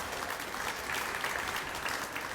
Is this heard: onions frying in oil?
no